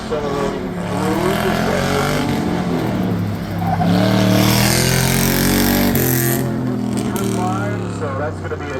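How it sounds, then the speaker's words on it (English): An autocross competition car accelerates hard out of a braking zone on the course, its engine loud and rising steadily in pitch across several seconds, with a brief dip and shift before climbing again. "Out of the brakes, accelerating through."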